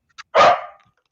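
Dog giving a single loud, close bark, preceded by a tiny short yip-like sound, then silence.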